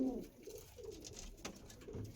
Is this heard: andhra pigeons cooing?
yes